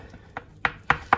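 The back of a knife presses through pastry on a board while making Christmas sausage rolls, giving four soft, crisp taps that grow slightly louder, close and alone.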